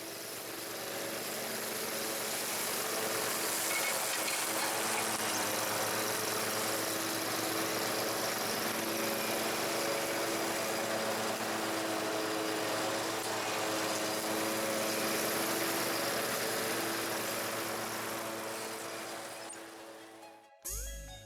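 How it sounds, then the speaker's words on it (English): Lawn mower used to chop up branches in a backyard: a continuous close engine drone for about twenty seconds with a steady rough chopping rumble, cutting off abruptly at the end. "Use your mower as a wood chipper."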